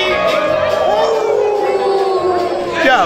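A crowd at an outdoor garlic festival on a town square imitates wolves, with many voices giving drawn-out rising and falling howls together, loud and close, ending in a higher swell.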